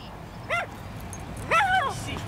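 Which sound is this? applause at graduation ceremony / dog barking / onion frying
dog barking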